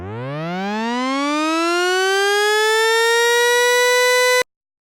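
A synthesized sweep built in Pro Tools rises steadily in pitch for about four seconds as a bright, buzzy harmonic tone, growing slightly louder before cutting off abruptly into silence.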